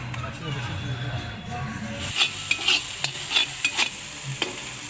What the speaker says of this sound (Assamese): প্ৰথমতে পিঁয়াজ আদা নহৰু গোটেইখিনি ভাজি ল'লোঁ